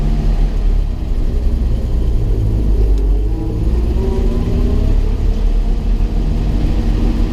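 A 1965 Toyota Land Cruiser FJ45 on the move, its engine a loud, steady low rumble with cabin road noise, close and continuous with no pauses.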